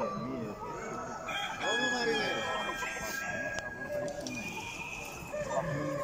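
Several roosters crow one after another at a national poultry show in an exhibition hall, loud and close, with clucking hens and a general crowd murmur underneath.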